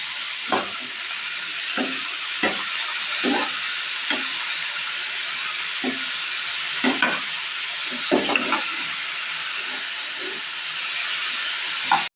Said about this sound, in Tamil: வெங்காயம் நல்லா வெந்ததுக்கப்புறம் நம்ம வெட்டி வச்சுருக்க கோவைக்காய் அதில் சேர்த்துக்கலாங்க.